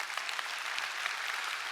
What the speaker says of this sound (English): So let's give them a particular round of applause for that.